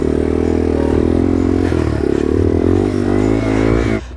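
A motorcycle engine revs hard and steadily, close up, as the bike sits stuck on a hill hump, the tone wavering slightly with scraping clatter underneath before cutting off abruptly near the end.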